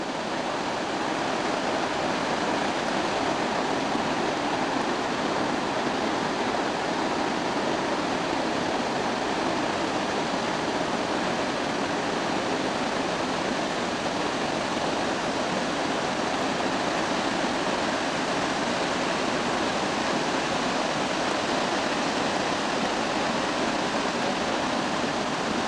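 Large Hawaiian waterfall thundering in a steady, dense roar, its water muddied red with volcanic, iron-bearing dirt, loud and unbroken throughout with no voices.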